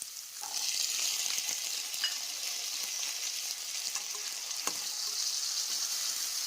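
Green peas and softened onions frying in a pan for a cauliflower and pea gravy, with a steady close sizzle and occasional stirring scrapes throughout.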